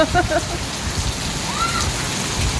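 Steady rain hisses and patters throughout, with voices and brief vocal sounds mixed in near the start and middle.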